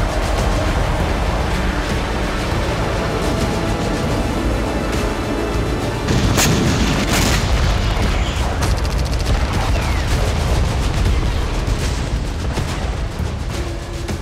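Kinzhal hypersonic missiles striking in Ukraine: a dense, loud barrage of booming blasts and rumbling detonations, with sharp bangs around the middle, sustained throughout with no speech.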